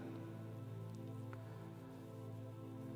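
Steady rain pours down in a city street scene with cars around, a continuous even wash of falling water with a low steady hum underneath, no voices.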